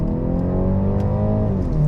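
A BMW G20 330e car engine with valved sport exhaust idles with a deep, throaty exhaust rumble, then briefly shifts pitch, loud and close with no talking.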